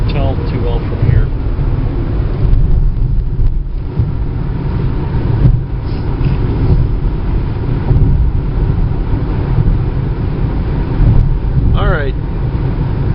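A car driving along a road in Arkansas: steady loud engine and road rumble with wind buffeting at the microphone, and people talking over it throughout.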